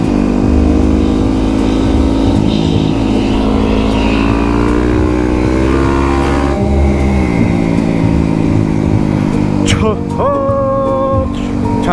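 A motorcycle engine runs loud and close throughout, holding a steady drone with a rise in pitch toward the end, with no talk over it.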